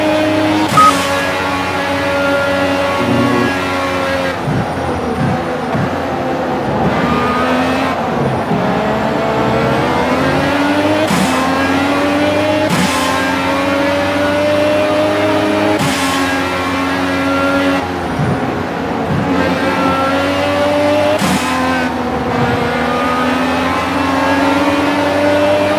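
Race car engine in the Project CARS video game, loud and close, revving up through the gears with rising whines and sharp drops at each shift, repeated across the lap with no talk.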